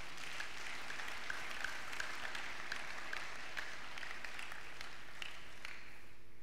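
Church congregation applauding during a Sunday worship service, a steady wash of many hands clapping, fairly soft and distant, tapering off toward the end.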